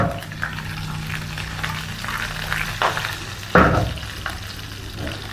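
Cashews and curry leaves sizzling in hot oil as a tempering for millet pongal, a steady crackling fry with utensil scrapes and a few sharp clinks against the pan, close and fairly loud.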